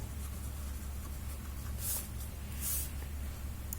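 Marker or chalk strokes on a classroom board during an accountancy lesson: two short, faint scratchy strokes over a quiet room hum.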